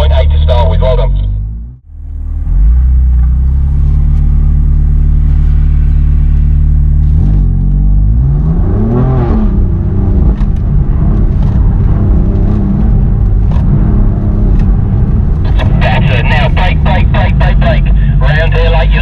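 A BMW M car, one of the M2, M3, M4 or M5, accelerates at full power around the Bedford Autodrome track. A loud engine rises in pitch and builds steadily, with an instructor talking over it.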